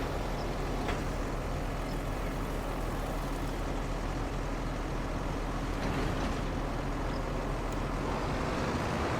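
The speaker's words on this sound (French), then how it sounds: "Ça au moins c'est un tracteur qui marche." A John Deere tractor engine runs in the video game Farming Simulator 25, a steady low drone with faint ticks and shifts, held at an even level with no talk.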